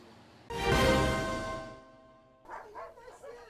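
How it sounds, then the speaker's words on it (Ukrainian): Dogs at a rescue shelter housing nearly a hundred animals let out one long, loud harmonic bark or howl, then a few quicker, fainter barks follow. "Майже сотня песиків живе у пані Лілі з жмеренки."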